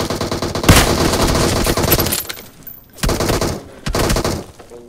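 Automatic gunfire in the battle-royale game PUBG, with loud, close bursts of rapid shots: a long stretch of fire, a short pause, then two more bursts separated by brief gaps.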